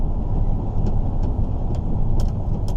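Inside the cab of a sugar beet haulage truck on the road, a steady, loud low engine and road rumble drones continuously with faint rattles on top.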